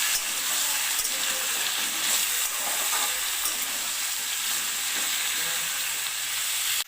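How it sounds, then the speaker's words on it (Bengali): Kohlrabi curry in a Bengali kitchen being stirred and mixed in a pan, with a loud, constant sizzle of frying close by and soft scraping of the spoon through it, without speech. "ভালো করে নেড়ে মিশিয়ে দেব।"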